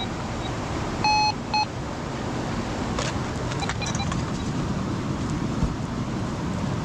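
A metal detector sounds a pair of short, clear electronic beeps over gold hidden beneath a big rock at a nugget-hunting site, loud against steady wind noise, followed by faint scattered clicks.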